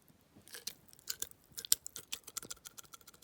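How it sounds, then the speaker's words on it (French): A crispy chicken nugget crunches between the teeth in a series of sharp, close bites at an irregular pace, alone with no talking. "Vous entendez ce bruit? Le nugget c'est bien croustillant."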